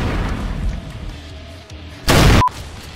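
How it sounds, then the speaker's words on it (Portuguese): A single loud shotgun blast in the modded game Brutal Doom bursts out sharply and cuts off abruptly, following quieter in-game background noise. "Já foi metade da vida dele num disparo."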